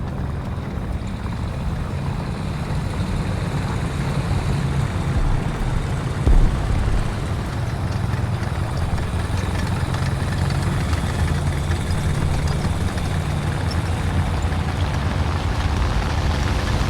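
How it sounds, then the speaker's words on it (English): Engine noise in the War Thunder video game, a steady low droning rumble that runs continuously with little change, moderately loud, with a single brief thump partway through and no talking. "Where's that engine sound coming from?"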